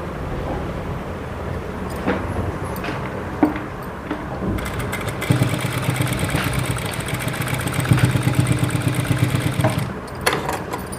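A sewing machine stitches piping onto a blouse, running with a steady mechanical whir and rapid needle clatter that rises partway through and continues under faint background noise.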